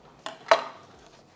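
Two quick clacks of a knife on a cutting board as a rested, grilled, reverse-seared picanha steak is sliced; the second tap is louder, and both are close and crisp with no talking.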